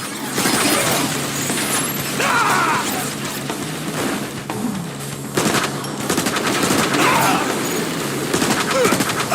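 Sustained rapid gunfire in Transformers: War for Cybertron, dense automatic bursts and impacts from robots battling in a city, loud and continuous with occasional shouted dialogue.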